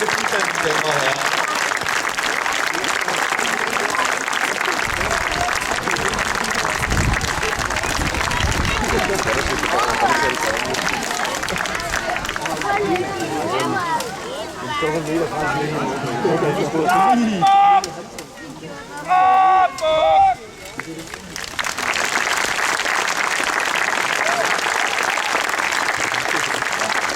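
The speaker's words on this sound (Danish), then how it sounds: "Giv dem en stor hånd og et kæmpe bifald" A large outdoor crowd applauds at Nyborg Kampdage, a medieval combat day, with sustained dense clapping that fades mid-way, then a voice booms over a PA before the applause swells again.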